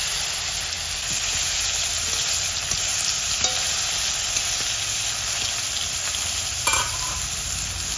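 Bhetki fish frying in hot oil in a very hot wok gives a steady, loud broadband sizzle and hiss that runs the whole time, with a few faint clinks of stirring and no voices.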